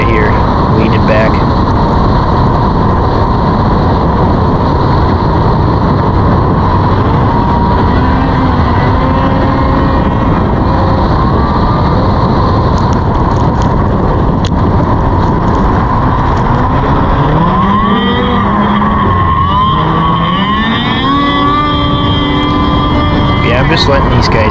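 Stock racing snowmobile engine held at full throttle, a loud continuous droning roar with shifting pitch throughout, close and steady, other sleds passing as the rider is lapped, with a voice talking over it.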